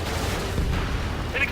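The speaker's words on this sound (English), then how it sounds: "An explosion inside!" An explosion erupting inside a structure in Ace Combat 7 Skies Unknown on Tyler Island, a rumbling blast with dense booms and crackling pops under game music and dialogue.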